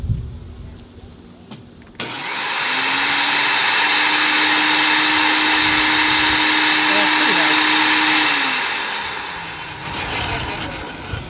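SunJoe electric wood chipper switched on and running with a loud, steady whining roar roughly as loud as a shop vac, spinning up, holding for several seconds, then winding down.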